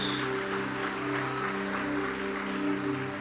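A church congregation claps in offering of praise, a broad wash of clapping held under a sustained organ or keyboard chord that rings on beneath the whole stretch.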